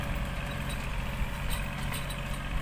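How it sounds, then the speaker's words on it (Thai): A Kubota tractor with a corn seeder attached sits idling in a rice field, its engine giving a low, steady rumble at moderate distance with no speech. "เป็นเครื่องหยอดข้าวโพด ติดกับรถไถนา"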